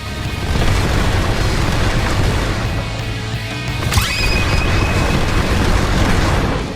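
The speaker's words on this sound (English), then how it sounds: "Dash in with the crazy barrage and it ends with the fiery shockwave." Fiery shockwave finishing an awakened Z move barrage in the Roblox game Blox Fruits: a dense, loud roar of crashing impacts and booms, with a sharp whooshing burst near the middle, no talking.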